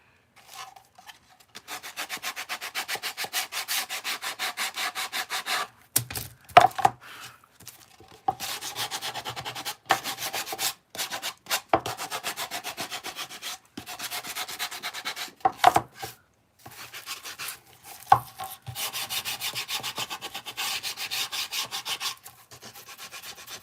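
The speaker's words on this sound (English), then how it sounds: "Let me get my sander." An electric sander working on wood during a craft session, a steady close buzzing rasp that runs in long passes broken by brief pauses and restarts, with no talk over it.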